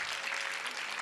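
Sustained audience clapping at the Sangeet Symphony 2015 music event, honoring violinists, guitarists, keyboard and mridangam players; a thick, even roar of many hands, moderately loud and continuous.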